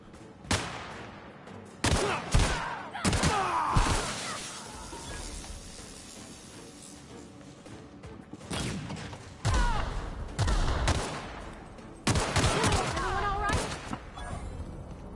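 Video game gunfire rings out in repeated loud volleys, several separate bursts of rapid shots spaced across the stretch, with a voice talking in between.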